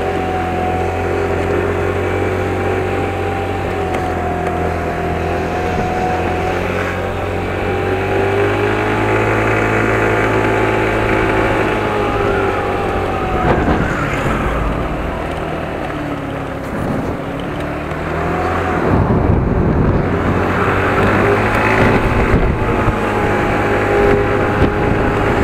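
A small Yamaha mini motorbike engine hums steadily at low speed, around 7000 rpm, over about 25 seconds with continuous wind and road noise. The pitch dips briefly near the middle and rises again toward the end.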